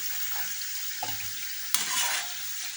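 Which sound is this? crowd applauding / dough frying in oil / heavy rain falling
dough frying in oil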